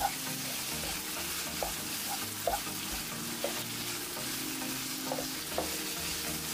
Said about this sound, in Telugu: ఇవన్నీ వేసుకుని ఒకసారి మళ్ళీ కలుపుకుందామండి.